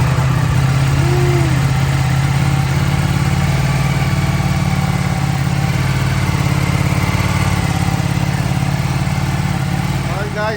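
A 2023 Ducati Panigale V4S at delivery, its engine running at a steady, loud idle close by, with a constant throbbing rumble that holds unbroken throughout.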